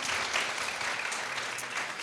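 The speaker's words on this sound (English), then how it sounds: "give them a round of applause" An audience claps at a live discussion event, a dense, even round of applause that carries on steadily without voices.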